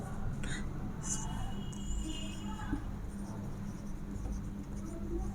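A pen scratching out a handwritten math solution on paper, with short light strokes and taps over a steady low background hum, close and fairly quiet.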